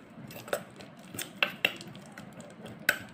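A spoon scrapes and clinks against a bowl while a bottle gourd peel face pack is stirred, giving a few sharp taps over a soft, steady scraping.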